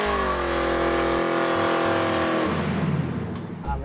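A 1972 Chevrolet Blazer's modified V8 engine revs with a deep rumble and steady low harmonics, then drops off into a rougher, noisier idle near the end.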